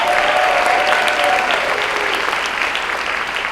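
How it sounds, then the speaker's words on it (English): A crowd at a seniors talent show in Chattanooga claps for performer Bonnie Hanna, loud dense applause holding steady with a few faint whistles early on. "Round of applause for Bonnie Hanna."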